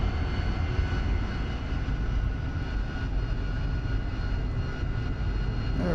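AV-8B Harrier II jet engine in DCS World spooling up and rolling for takeoff from the USS Tarawa, a loud steady roar with a constant whine, continuous and close throughout.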